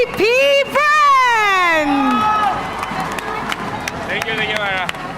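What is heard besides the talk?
crowd applauding and cheering champions at esports finals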